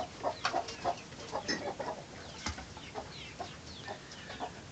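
A broody hen clucks in short, irregular bursts at moderate distance in a poultry house. Other fowl are faintly audible in the background, and no one speaks.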